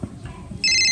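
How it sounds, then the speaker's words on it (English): A phone ringtone cuts in halfway through as a loud, sustained electronic tone, following a moment of quieter indoor sound. "I've never heard that ringtone in my life"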